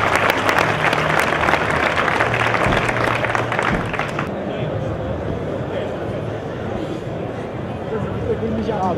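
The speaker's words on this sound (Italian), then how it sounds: "Facciamo un grosso applauso al ragazzo infortunato" Audience applause fills a national gala evening with combat sports bouts, dense clapping with crowd murmur, loud at first and then dropping to a softer, thinner level for the second half.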